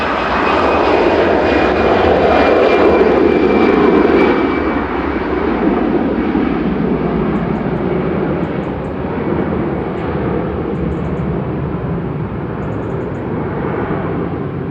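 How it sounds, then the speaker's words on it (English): An easyJet Airbus A320, registration G-EZUK, takes off from Manchester Airport bound for Alicante with a loud, close jet roar and a high turbine whine early on, the rumble easing slowly as it departs. "EasyJet off to Alicante,"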